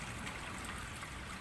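Fresh drinkable spring water flows in a steady, soft rushing wash that is faint and continuous, with no other sounds.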